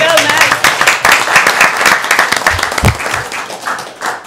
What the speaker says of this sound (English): Do we ever applaud him?